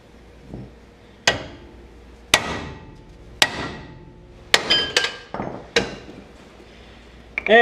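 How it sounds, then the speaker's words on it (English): A series of sharp, ringing metallic hammer blows on a ball joint of a 1973-87 Chevy C10, about nine strikes spaced irregularly, each clang decaying quickly, close and loud. "sometimes you got to get a bigger hammer"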